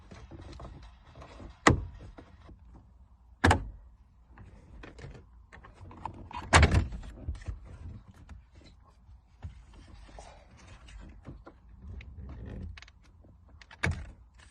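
Plastic dash radio trim being pried loose on a 2011 Ford Mustang, with sharp snapping clicks near 1.7, 3.5, 6.7 and 14 seconds over quieter scraping and handling noise, close and fairly loud.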